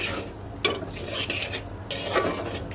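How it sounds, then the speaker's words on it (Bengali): Taro greens with prawns are stirred in a cooking pan after salt is added, giving a few close scraping and clinking strokes of a spoon against the pan over a faint sizzle, with no talk. "লবণটা দেওয়ার পর এবার আবার সুন্দর করে আমি মিক্স করে দেব"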